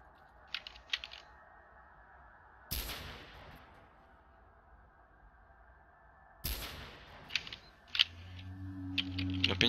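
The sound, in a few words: gunshots in S.T.A.L.K.E.R. video game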